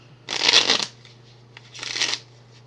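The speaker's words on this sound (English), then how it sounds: "shuffle the limbo deck back into the deck" A deck of game cards is shuffled by hand in two crisp riffles, close and clear, with a quieter pause between them and no talking.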